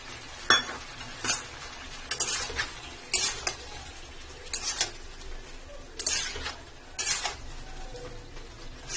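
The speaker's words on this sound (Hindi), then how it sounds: "हमारे मसाले जो हैं वो अच्छी तरह से मिक्स हो रहे हैं।" Spices are stirred into a potato and pointed gourd curry. A spoon scrapes against the pan in about eight bursts with light metallic clinks, over a faint background of frying.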